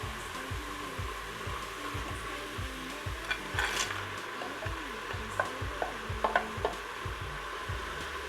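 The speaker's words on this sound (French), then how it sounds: "Je vais rajouter également mes fruits de mer." Seafood going into a paella sizzling in a Moulinex Cookeo, with a continuous hiss of frying over a pulsing appliance hum and a few light clicks of stirring.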